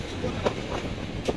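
The Lalmoni Express, a crowded passenger train running from Lalmonirhat toward Bogura with riders on its roof, gives a steady rumble with rhythmic clickety-clack of wheels on rail joints, heard close and continuous.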